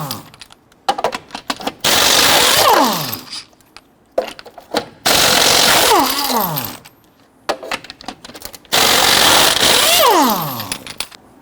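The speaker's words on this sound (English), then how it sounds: "you want to go ahead and loosen and remove your lug nuts." Impact wrench loosening and removing lug nuts with a 22mm socket on the front wheel of a 2006-2014 Honda Ridgeline, three loud close bursts of rattling hammering, each winding down in a falling whine, separated by clicks and handling noise.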